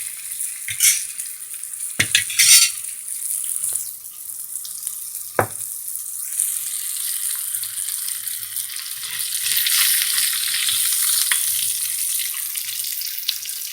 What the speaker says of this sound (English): We are gonna add the Karallo, the dried pony fish, into our oil, and we are gonna fry it.